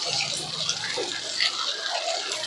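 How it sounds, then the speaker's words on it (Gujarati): Heavy rain and running water make a dense, steady rushing wash with small splashy surges throughout. "તો વરસાદ તો બહુ વરસી રહ્યો છે"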